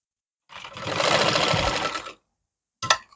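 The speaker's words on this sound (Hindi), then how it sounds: "अब हम इस पर एक सिलाई लगाएंगे।" Sewing machine stitching elastic onto palazzo pants, one continuous run of fast, even needle clatter lasting about a second and a half, then a short separate burst of stitching a moment later.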